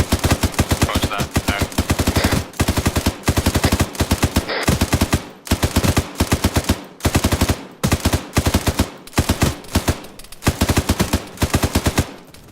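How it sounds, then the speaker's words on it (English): Rapid automatic gunfire rings out in the military video game ArmA 3, with long, loud bursts of shots repeating almost without pause and only short gaps between volleys. "I'm taking fire from the southwest hill, over."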